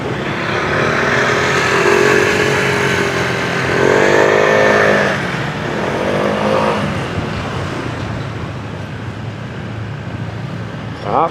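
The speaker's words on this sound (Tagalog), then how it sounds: "Traffic." Busy road traffic with motorcycles and cars passing close by, engines droning and swelling steadily throughout, with revving rises and a voice talking faintly beneath the continuous rumble.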